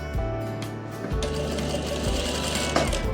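A sewing machine stitches a sharara suit in a fast, steady whir, with the motor briefly stopping and restarting a few times, close and loud with no talk.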